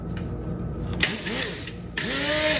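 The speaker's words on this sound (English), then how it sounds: "And now we're going to grind this up." A kitchen grinder whirs through ice cream ingredients for a few short, loud bursts, each spinning up with a rising whine and stopping abruptly, close by and with no talking.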